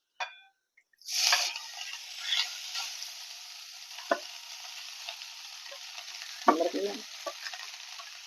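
Cooked rice is being stirred into vidi pongal in a hot pan, giving a sizzling, scraping stir that starts after a short quiet gap, with a few louder spatula scrapes and knocks along the way.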